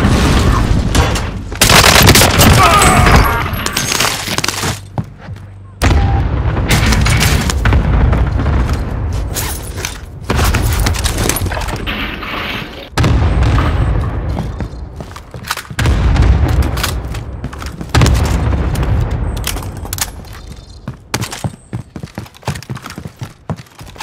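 A grenade explodes amid gunfire in Call of Duty: Modern Warfare, with repeated heavy booms and bursts of shots cutting in and out, loud and close throughout a long stretch of combat.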